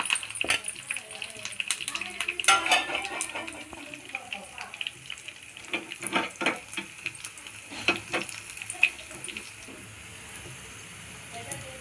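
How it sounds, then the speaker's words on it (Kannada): Grated coconut, curry leaves, garlic and cumin tempering in heated oil, crackling and spitting in scattered sharp pops over a low hiss, with a voice talking nearby. "ಹೀಟಾಗಿ ಎಣ್ಣೆಗೆ ಕೊಬ್ಬರಿ, ಕರಿಬೇವು, ಬೆಳ್ಳುಳ್ಳಿ ಹಾಕ್ತಿದ್ದೀನಿ."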